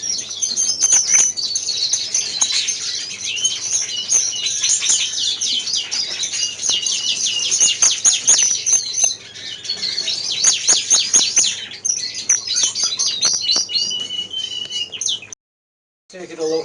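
Greenfinches in a breeding aviary chirp and tweet in bright rapid bursts, several birds calling over each other at close range, with brief pauses and a short silence near the end.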